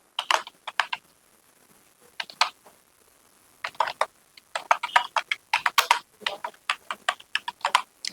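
Keystrokes on a computer keyboard in short bursts of quick, crisp clicks separated by brief pauses, close and clear with no talking.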